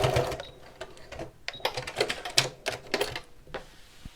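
A domestic sewing machine running in short bursts, rapid mechanical stitching clatter that starts and stops several times, close and fairly quiet, with a faint voice in the background.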